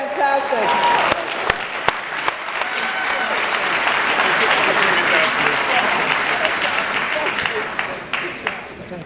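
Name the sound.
audience applause for Eric LeGrand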